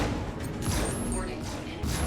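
Sustained gunfire from a video game boss fight with an Anvil Hawk against an Idris ship, a dense continuous rattle of shots and mechanical clatter with bright electronic tones over it.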